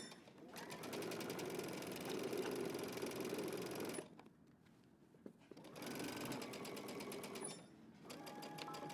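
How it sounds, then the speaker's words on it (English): A sewing machine back stitches a seam with a 5/8 inch seam allowance, running in two long close, loud, even bursts of rapid stitching separated by a brief pause, with no talking. "we're going to go ahead and back stitch using 5/8 of an inch seam allowance."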